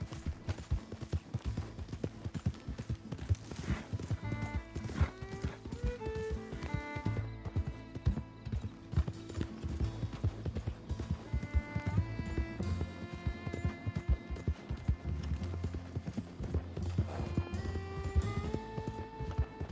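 Horse hooves clip-clop at a steady gallop in Red Dead Redemption 2, carrying on for the whole stretch beneath a busy layer of game music and ambience, with no voices over them.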